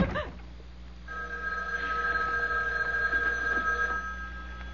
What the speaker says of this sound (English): Stood there listening to it ring. Didn't dare answer it.